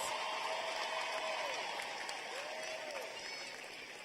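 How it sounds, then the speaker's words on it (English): Broad crowd applause at a high school graduation ceremony, a sustained wash of clapping from a large audience that slowly tapers near the end, with faint whistle-like tones drifting over it. "That deserves a round of applause."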